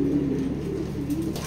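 Racing pigeons kept in a loft give a continuous low droning coo, steady and close, over faint background noise and without speech.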